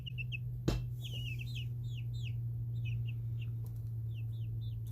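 Backyard chickens, including a black Ayam Cemani, give repeated short, high chirping calls in quick bursts, close by over a steady low hum, with one sharp knock near the start.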